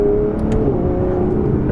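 An Aston Martin Vanquish with a 177-derived exhaust system drones loud and close while driving, with a couple of short crackling pops breaking through the steady engine note.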